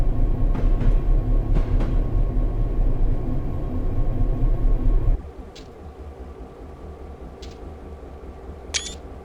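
An Amtrak train passes close by with a loud low rumble that cuts off abruptly, leaving quieter ambience marked by a few sharp clicks.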